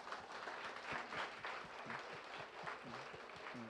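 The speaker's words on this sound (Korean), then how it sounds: "박수 한번 우리라도 쳐줍시다." A church congregation applauding its teachers during a Sunday service, a sustained round of many hands clapping in a hall, fairly distant and even throughout.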